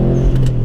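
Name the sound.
Subaru WRX STI flat-four boxer engine revving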